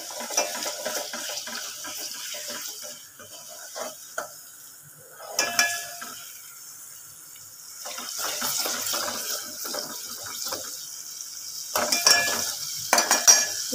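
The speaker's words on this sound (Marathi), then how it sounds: "आता मी अद्रक आणि लसणाची पेस्ट टाकणार आहे. मस्त आपल्याला याच्यामध्ये हलवायचं आहे." Ginger garlic paste frying in hot oil while it is stirred, making a soft, uneven sizzle with intermittent sharper scrapes of a spoon, moderately close, with no voices.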